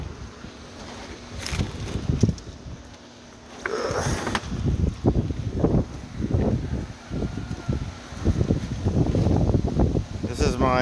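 Gusty wind buffets the microphone in loud rumbling bursts outside a greenhouse on a stormy day, with rustling and a voice speaking intermittently underneath.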